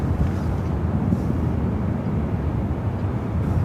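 An airliner taking off at Phoenix Sky Harbor airport gives a loud, steady broadband engine roar that holds evenly throughout, with no voices.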